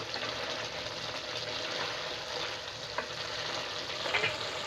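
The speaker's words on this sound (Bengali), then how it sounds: "তারপর আনুমানিক 5 থেকে 7 মিনিটের জন্য সবজিগুলোকে ভালোভাবে কষিয়ে নেব।" Kohlrabi and green peas sautéing in a pan, a steady soft sizzle running throughout with a few light scrapes of stirring, moderately faint and with no voices.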